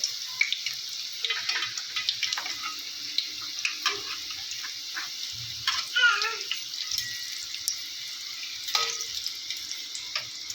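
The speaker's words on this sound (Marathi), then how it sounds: "असे फ्राय झाले पाहिजे बघा अशा प्रकारे फ्राय झाले पाहिजेत आपले कोथमीर वडे" Coriander vadas frying in a pan of hot oil, giving a quiet, steady bubbling hiss with occasional faint clinks and soft splashes, heard alone at a moderate distance.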